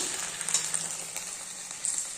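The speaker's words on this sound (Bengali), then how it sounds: "কড়াতে তেল গরম করতে দিয়ে দিয়েছি এবার ভাজবো এদিকে আমি ঢ্যাঁড়স বসিয়ে দিয়েছি" Okra frying in hot oil in a wok, heard as a continuous close, bright hiss of sizzling with faint crackles and no talking over it.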